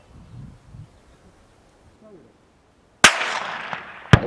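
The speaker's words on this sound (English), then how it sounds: "Why are you shooting at us?" Gunfire from soldiers aimed at farmers in Abassan Jedida: after near-silence with faint outdoor noise, one sharp loud crack rings out with a decaying tail, and a second sharp report follows about a second later.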